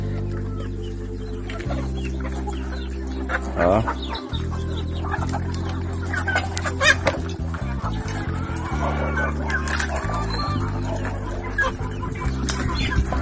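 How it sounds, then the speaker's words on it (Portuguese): On a farm at Sítio Cipó in Acopiara, a group of chickens clucks and cackles close by, steady and busy under a low droning hum, while someone speaks briefly. "olha o tanto de frango ali ainda por baixo"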